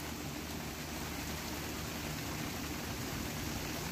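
Steady rain comes down outdoors during a two-day downpour, making a soft, even hiss of drops that runs unbroken throughout without any speech.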